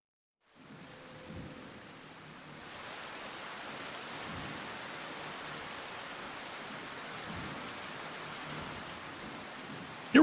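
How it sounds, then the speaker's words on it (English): Steady rainfall in the video game Final Fantasy XIV: Heavensward starts after a brief silence, building into a dense, even hiss that thickens a few seconds in and then holds at a constant moderate level. "It rains a lot in this damn game."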